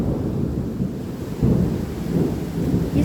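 Heavy rain pours steadily through a dark southern San Antonio thunderstorm while deep thunder rumbles and swells, growing louder partway through, with no one speaking.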